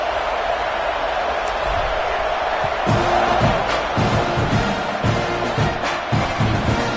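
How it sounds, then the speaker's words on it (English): Loud stadium crowd in a college football video game during an LSU quarterfinal, a steady dense roar with scattered thumps and swells of cheering through the whole stretch. "the crowd is making it really hard to communicate and hear each other right now down on the field"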